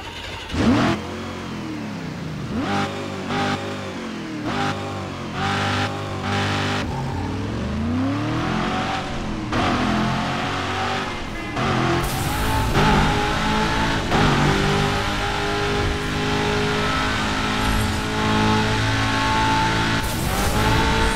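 Engine revving and driving in Burnout Paradise, a heavy, unresponsive car whose engine note rises and falls through repeated gear changes, loud and continuous throughout with no talk.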